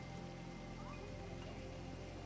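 Steady rain from the GTA 5 video game, a continuous even patter on surfaces, quiet and unbroken throughout with no voices.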